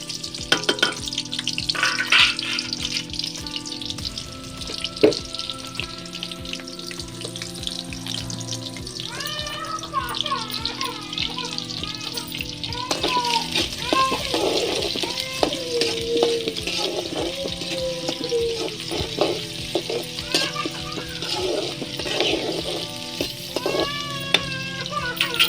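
Large and small onions frying in hot oil in a pan for a village-style fish curry, producing a steady close sizzle with occasional stirring clatter and some faint background sounds across the whole stretch.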